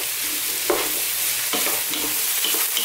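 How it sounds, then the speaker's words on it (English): Vegetables for an Indian-style vegan winter dish sauté over medium heat in a pan, a steady close sizzle broken by a few scraping stirs of the spoon, with no voices. "Okay, this is sauteing really nicely."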